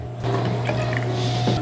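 Cold water poured into a blender cup holding tahini, garlic and lemon juice, a short steady liquid rush running alone for over a second with a faint drip near the end.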